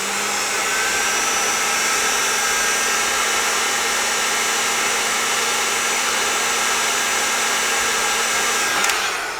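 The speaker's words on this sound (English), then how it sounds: "we can just heat them up with a hairdryer" A hairdryer blows steadily to heat leaking capacitors in a Fender Tweed Champ amp, a constant loud whooshing hiss with a faint motor whine underneath, running unbroken with no talking.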